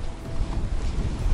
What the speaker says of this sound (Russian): ветер у нас усилился уже до 25-26 уже узлов